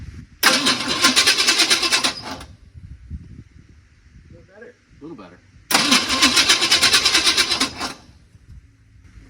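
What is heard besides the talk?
truck engine cranking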